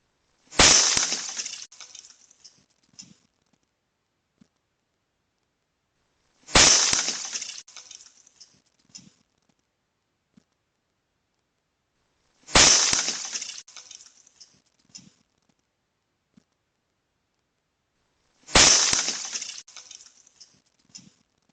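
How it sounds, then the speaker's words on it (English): A meteorite strikes a concrete driveway outside a house, making a sharp, bright crack with a scattering, gritty tail. The impact is heard four times in a row with silence between each one. "The sound of a meteorite striking Earth has been captured for the first time."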